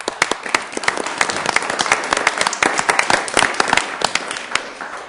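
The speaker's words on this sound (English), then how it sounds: "we're going to give you a round of applause" Audience applause at a Sioux Falls city council meeting, a moderate crowd clapping steadily and fairly close, with sharp individual claps standing out before it tapers slightly.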